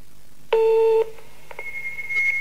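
A telephone answering machine sounds a loud, clear electronic tone lasting about half a second, then a softer sustained higher tone follows along with faint clicks, right before a recorded message begins.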